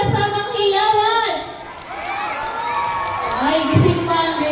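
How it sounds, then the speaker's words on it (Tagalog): Grade 1 schoolchildren at a Nutrition Month school event clap and shout on cue, a loud burst of youthful cheering and whoops that dips briefly and then rises again, mixed with an adult voice on a microphone. "bigyan niyo kami ng palakpak na may kasamang hiyawan"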